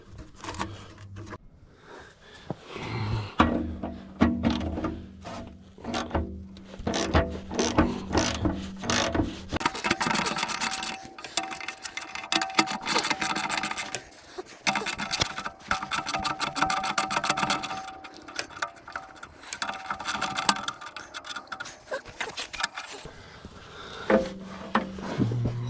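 Tools work on a Super W-6 tractor as the battery and battery box come off: repeated ratcheting clicks in quick bursts, then a long dense stretch of close mechanical clatter, with no talking.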